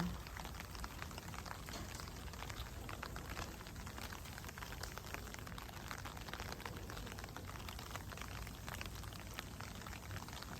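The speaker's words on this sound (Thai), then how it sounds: "ฝนตก" Steady rain falls in a garden near a red variegated climbing rose, making a faint, even patter that continues without a break and with no voices.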